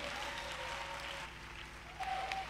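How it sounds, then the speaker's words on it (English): Applause from an audience at a children's preaching competition grand finale, faint and distant, a steady wash of clapping that swells slightly near the end. "Please keep clapping."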